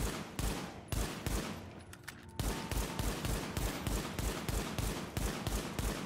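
Handgun fire in The Division shooter game: a quick, steady string of loud sharp shots in even rhythm, with a short gap partway through and no talk.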